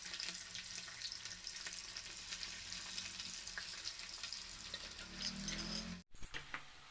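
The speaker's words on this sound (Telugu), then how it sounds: "తర్వాత స్టవ్ పైన ప్యాన్ పెట్టి ఆయిల్ వేసి కాకరకాయ ముక్కలు డీప్ ఫ్రై" Bitter gourd pieces deep frying in oil in a pan, a steady loud sizzle and crackle running throughout with a brief cutoff near the end, no talking.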